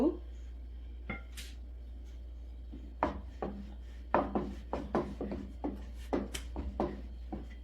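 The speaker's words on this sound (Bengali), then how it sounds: "আমি পাতলা করে রুটিটা বেলে নেবো" Rhythmic rubbing and soft knocks of a rolling pin working spinach roti dough thin on a board, repeated strokes following a quiet start.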